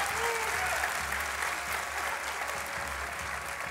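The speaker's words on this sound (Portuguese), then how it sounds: "Mais um aplauso para ela, exatamente." A studio audience at the Portugal's Got Talent TV talent show claps in a dense, steady burst of applause that fades slightly toward the end.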